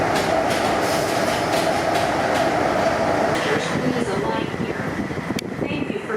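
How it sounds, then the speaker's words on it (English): Inside an airport train carrying passengers to immigration in Hong Kong, a continuous loud rumble and clatter of the carriage runs throughout, with voices talking over it. "it's one of those airports where you actually have to get on a train to go to immigration"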